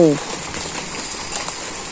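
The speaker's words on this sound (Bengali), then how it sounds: "বৃষ্টি তো" Steady rain pouring down in a rural village, a dense even hiss that stays constant throughout, with a brief voice at the very start.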